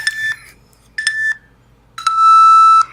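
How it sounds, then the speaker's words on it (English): Three electronic beeps: two short tones followed by a longer, sustained beep, loud and close with no talking. "we got a little timer that goes beep, beep, beep"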